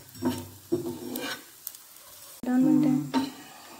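A chickpea pancake fries in sesame oil in a pan, with intermittent sizzling and scraping clatter as it is handled and turned, ending in a louder stretch of sizzle.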